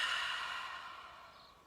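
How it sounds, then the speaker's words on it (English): A single long exhale during a Kundalini yoga breathing exercise: a breathy, airy rush that starts strong and slowly fades over nearly two seconds, close and alone. "And exhale."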